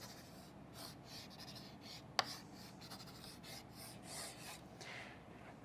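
A circuit diagram drawn by hand for a lesson on Kirchhoff's rules: soft scratchy pen strokes in short uneven bursts, with one small sharp tap partway through, close and quiet.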